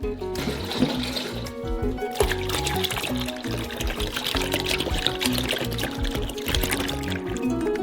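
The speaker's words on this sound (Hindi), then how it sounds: "एक सॉसपैन में मैक्सिमम फैट वाले दूध के 4 लीटर डालते हैं।" Four litres of full-fat milk poured into a saucepan make a continuous gushing, splashing stream of liquid that stays loud and close throughout.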